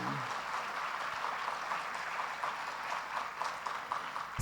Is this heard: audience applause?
yes